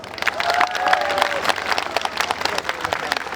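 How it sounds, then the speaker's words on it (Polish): Outdoor crowd applause at a Polish harvest festival in Ćmielów, a lively spread of clapping from many hands with a faint whistle or cheer early on, rising then gradually thinning. "Brawa do Pani Dyrektor!"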